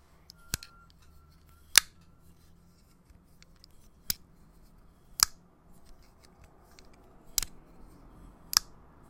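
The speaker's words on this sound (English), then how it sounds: "It kind of clicks into place." A cheap $4 Walmart folding knife is flipped open and shut, giving about seven sharp, isolated clicks spaced a second or two apart over quiet room tone, fairly close and with no talking.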